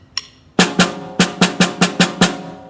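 A snare drum plays an eighth-note rhythm up to tempo with alternating sticking, a brief light tap followed by eight quick, crisp, close strikes with short decays, unaccompanied.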